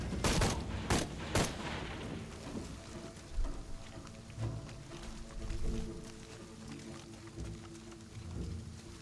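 Rifle gunfire in Shadow of the Tomb Raider, with a few sharp shots up front followed by scattered bursts of combat noise over a steady game background.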